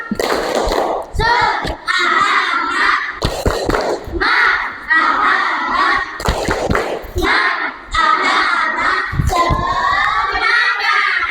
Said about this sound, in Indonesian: Beri tepuk tangan untuk kelompok 1. Tepuk semangat.